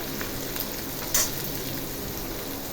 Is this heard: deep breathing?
no